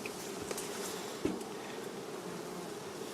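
A colony of Carpathian honey bees buzzing steadily at the hive, a continuous close hum with a few individual bees zipping past the microphone.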